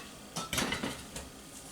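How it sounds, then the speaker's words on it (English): A spoon clinks and scrapes against a bowl while a marinade is stirred, a short cluster of close metallic taps and knocks, then quiet. "I just want to kind of give this a good stir and let it marinate"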